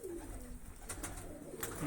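Two large female pigeons in a Punjabi breeding loft give soft, low cooing calls that run steadily through the clip, close and alone with no voices.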